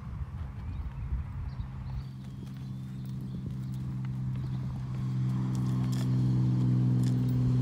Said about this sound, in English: Bring your horse into the center line and line up.